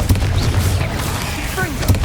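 Confringo blasting spell exploding in the Hogwarts Legacy video game during a fight with spiders, a short, loud booming burst with deep rumble and a second thump near the end, amid game sounds.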